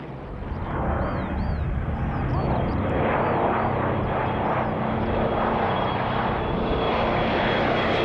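A Vought F4U Corsair piston-engine fighter flies at the Duxford Flying Legends airshow, its engine a loud, steady, full drone that holds for several seconds with a faint whining tone above, the crowd murmuring beneath.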